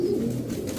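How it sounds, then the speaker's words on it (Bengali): A male pigeon coos close by in a low, throaty rolling burble that runs steadily and alone through the short stretch, with a faint higher chirp early on. "হ্যারিকেন দিয়ে করা একটা নর কবুতর"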